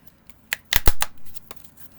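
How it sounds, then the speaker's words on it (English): A long drag tarot deck being shuffled by hand, a few quick riffling card slaps clustered together, close and crisp against quiet surroundings. "let's go ahead and shuffle this deck"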